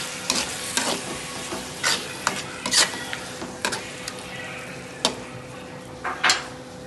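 An onion and tomato masala cooks in a pan, with a soft sizzle under repeated scraping clicks of a spoon against the metal, close and irregular.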